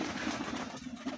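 Pigeons in a loft of colourful fancy breeds, soft low cooing in repeated rounded pulses over a faint background hiss, close and gentle, with no talking.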